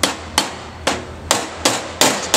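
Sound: hammer knocking a roll pin into a jockey wheel

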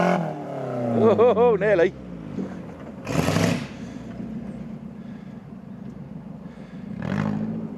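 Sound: rally car engine revving while racing

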